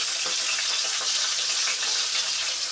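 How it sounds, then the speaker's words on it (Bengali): A hilsa fish head fries in hot oil with a steady, bright, hissing sizzle throughout, close and unbroken, with no talking. "তার জন্য আমি আগে মাছের মাথাটা ভেজে নিচ্ছি।"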